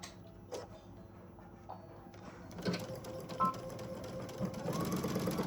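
Sewing machine stitching a seam on fabric for a tissue box cover, starting with a few isolated clicks, then running continuously with a rapid mechanical whirring and ticking that grows louder toward the end.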